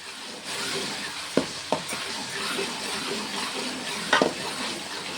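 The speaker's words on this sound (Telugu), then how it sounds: "ఇదంతా కలిపేసుకుంటున్నాను" Fish curry masala with ginger garlic paste being stirred in a pan, giving a soft steady sizzle broken by a few sharp spoon scrapes and taps against the metal.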